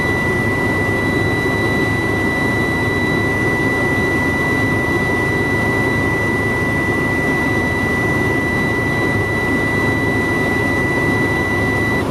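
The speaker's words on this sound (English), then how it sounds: "Buzzer's gone off" A truck's low air pressure buzzer sounds a steady high-pitched tone continuously over a loud, constant diesel engine drone at about 1,000 to 1,300 RPM, without pause or change.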